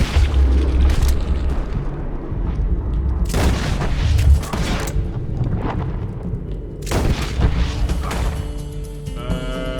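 A cannon blast in Red Dead Redemption 2 lands as a loud, deep boom, followed by further heavy booming rumbles and rolling impacts across the stretch, with dense low-end noise throughout.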